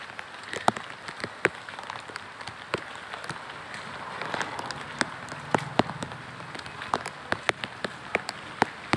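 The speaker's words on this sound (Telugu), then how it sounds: "చూడండి, వర్షం వాటర్ మొత్తం ఫ్లో అవుతున్నాయి" Heavy rain falls on an empty outdoor street, water running steadily with a dense patter and sharp drips and splashes scattered throughout, close and continuous with no voices.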